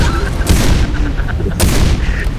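Gunfire in the video game Create Chaos Simulator, two sharp, loud shots about a second apart, each followed by a short rumbling tail over a busy game background.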